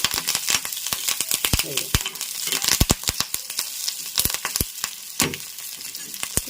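Curry leaves sizzle and crackle in hot oil in a pan, with loud, irregular pops and spits over a frying hiss, close up, while someone talks over it.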